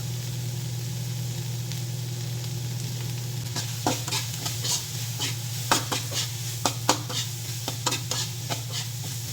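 Onion and young corn stir-fry in a pan for a vegetable chop suey. A steady sizzle runs under a low hum, and a spatula scrapes and clatters in sharp bursts during the second half.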